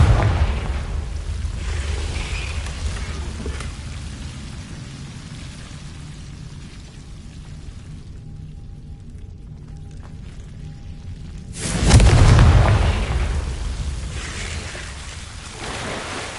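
A Confringo blasting spell bursts with a single loud boom about two-thirds through Hogwarts Legacy gameplay, rising above a steady rainy, rumbling ambience, followed by a fading roar.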